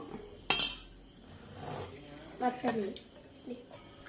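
A ladle clinks against a plate while serving rice, giving one sharp metallic tap followed by softer scraping and clinking, with a person talking over it.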